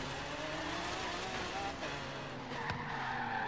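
A Lamborghini Sesto Elemento accelerates hard in the Forza Horizon 3 racing game, its engine a steady, loud, continuous roar through the whole stretch with a brief rising sweep near the end and tire noise layered beneath.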